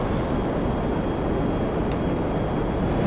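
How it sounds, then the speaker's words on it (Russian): A helicopter flies in GTA 5 Online, giving a steady, loud broadband rotor and engine roar that holds unchanged throughout, with no speech. "вертушка за мной летит"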